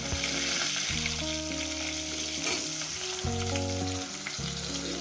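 Potatoes fry in a pan with salt as a vegetable is cooked, giving a steady, continuous sizzle that runs without a break throughout.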